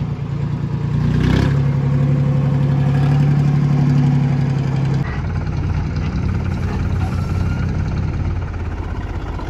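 A tractor engine idles steadily with a low, continuous rumble, swelling slightly early on and then settling into an even idle throughout.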